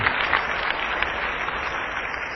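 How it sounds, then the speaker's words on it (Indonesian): A church congregation claps steadily, a dense, even wash of applause lasting throughout and heard from within the crowd. "Berikan tepuk tangan yang meriah."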